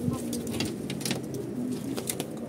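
Pigeons cooing nearby in a steady, layered chorus of low throaty coos, with faint chirps and rustling behind them and no talking.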